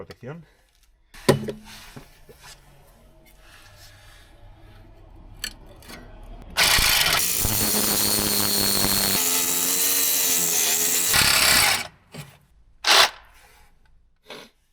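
A battery-powered impact tool on a Mini Cooper S R53 hammers loudly at a stubborn nut in one sustained burst of several seconds, with quieter workshop handling sounds before and after.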